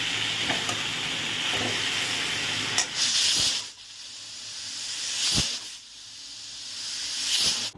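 Chopped vegetables sizzle and hiss in a hot kadai as a curry cooks, a steady frying crackle with occasional stirring scrapes and louder bursts of steam, close and continuous with no talking.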